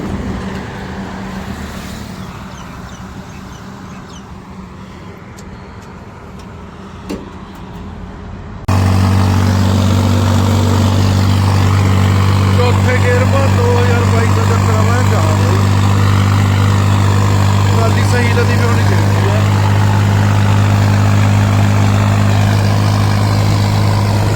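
A tractor engine idles with a loud, steady low rumble that starts abruptly partway through, following quieter outdoor background noise and faint talk.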